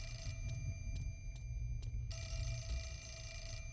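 A telephone rings in a horror game: short regular electronic ring pulses, then a sustained ringing burst, all over a constant low drone with no voices.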